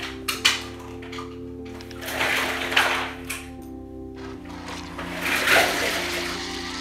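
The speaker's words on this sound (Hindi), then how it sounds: "अब इसमें एक कप गर्म पानी डालें और उसको चम्मच से मिक्स करें।" Hot water is poured into a blender jar while making homemade desi ghee, then stirred with a spoon: splashing pours and scraping bursts over a steady low hum.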